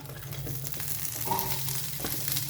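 Fresh small onions sautéing in a pan for mutton curry, a continuous close sizzle with soft stirring scrapes, no voices.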